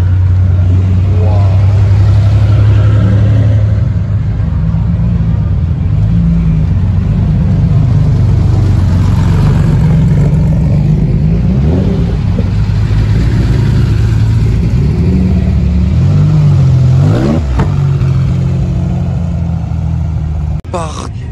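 RWB cars pass on a racetrack during a car event, their engines droning and revving with a deep rumble under continuous talk.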